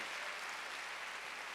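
A church congregation at a Wednesday worship service applauding, a dense steady wash of clapping from many hands through the whole short stretch.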